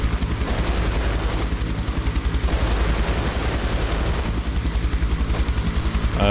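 Door gunner on a UH-1H Huey in DCS World firing a machine gun: rapid, continuous bursts of automatic fire over the constant thudding rotor of the helicopter, loud and close, with no talk.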